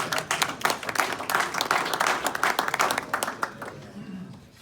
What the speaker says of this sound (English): So round of applause to our students